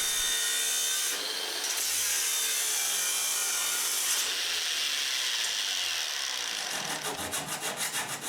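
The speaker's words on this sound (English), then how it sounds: "cutting a steel plate large enough to hold all the components from a piece of scrap metal using an angle grinder" Loud, harsh high-pitched grinding of an angle grinder cutting a scrap steel plate, steady and continuous, with a rhythmic pulsing toward the end.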